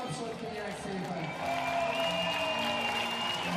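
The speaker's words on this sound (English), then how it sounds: "egy óriási tapsot kérek szépen" Audience applause at a UIPM Pentathlon World Cup final ceremony in Budapest, a steady wash of clapping from a home crowd that swells slightly after the first second and carries on under a loud announcer's voice.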